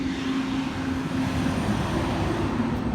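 Steady traffic rumble from a busy main street in Ohio, a continuous low roar of passing vehicles with a faint engine hum, heard without any talking.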